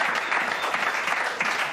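Applause for footballer Clarence Seedorf at a Game 4 Ukraine charity match, a short burst of steady, dense clapping from a crowd.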